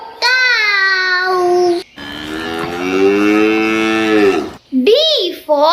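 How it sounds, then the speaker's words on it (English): A cow moos twice in long, loud, drawn-out calls close by, the second lower and fuller, followed by brief bright chirpy tones. "C for cow."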